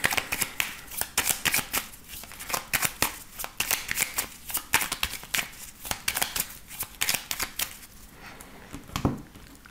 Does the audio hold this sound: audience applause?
no